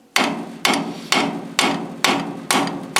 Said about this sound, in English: rubber hammer and a good wrench.